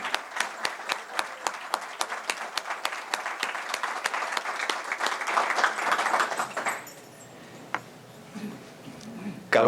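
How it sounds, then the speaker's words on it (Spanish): Audience applause for the Instituto Americano para la Democracia at a book presentation; many hands clap in a brisk, even rhythm for about seven seconds, then the clapping stops abruptly, leaving quiet room noise. "Y yo le pido un aplauso, por favor, a este instituto."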